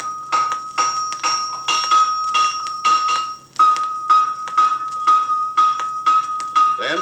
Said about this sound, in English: Then he'll start to shape the shoe on the anvil.